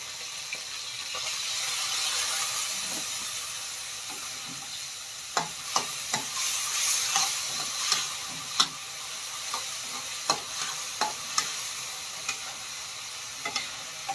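Pork stir-fried with chrysanthemum leaves in a pan, with oyster sauce and light soy sauce added, gives a steady loud sizzle under repeated sharp scraping and clacking of a utensil against the pan.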